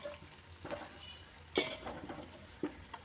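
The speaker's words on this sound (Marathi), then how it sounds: "सो आता मीठ टाकून आपण छान हलवून घेऊया आणि मग बघा तुम्ही गंमत, अगदी मस्त छान ब्राऊन होईल हा कांदा" Onions sizzle in a pan with salt while being stirred for chicken dum biryani, a soft steady frying hiss with a few faint scrapes and clinks of a utensil.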